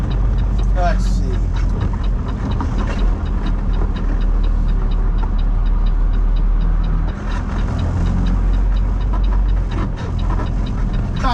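A truck engine rumbles steadily at close range while the rig maneuvers into a parking spot between a van trailer and a flatbed with a Conestoga, with someone speaking intermittently over the low, continuous drone.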